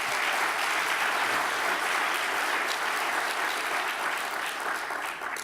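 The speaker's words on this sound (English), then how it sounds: "Round of applause" A conference audience applauds its moderator with sustained, dense clapping that fills the room, loud and even throughout with no voices on top.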